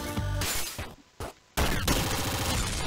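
Laser weapon shots in the Downwell video game: loud, buzzy electronic blasts in quick bursts, broken by a short near-silent gap before a dense final volley.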